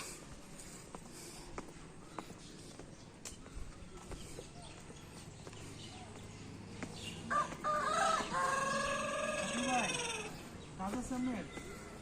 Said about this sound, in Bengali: এখানে মোরগ আছে কিরে ভাইয়া অনেক অনেক বড় মোরগ